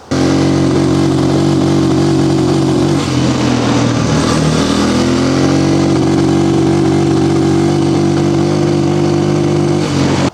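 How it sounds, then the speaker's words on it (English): A Honda CRF230 dirt bike engine held at full throttle, bogging at high RPM with a carburetor problem: a loud, steady close-up drone that sags and wavers midway before recovering to a strained, even roar. "when I give it full throttle, the freaking thing, it bogs at high RPMs"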